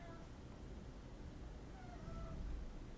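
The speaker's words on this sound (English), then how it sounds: "guys hear my cat?" A hungry pet cat meows faintly in the background, a couple of thin drawn-out cries under steady room noise.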